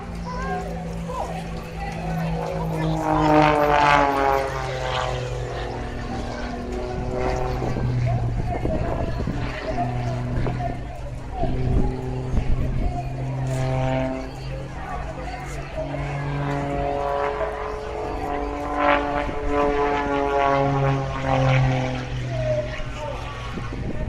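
An aerobatic propeller aircraft flicking, rolling and tumbling, its engine droning with rising and falling pitch as it maneuvers, heard continuously under a commentator's voice and some wind noise.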